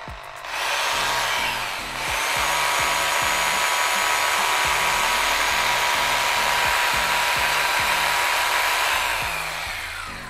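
A power tool whirs up to a steady high-pitched motor whine after the trigger is pressed, running continuously and loudly before slowly winding down.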